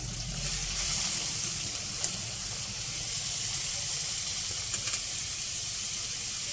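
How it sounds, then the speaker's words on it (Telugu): Onions sizzle in a pan for an egg curry, a steady soft frying hiss with faint occasional pops and a low background rumble, no voices. "ఉల్లిపాయ వేసుకుందాం."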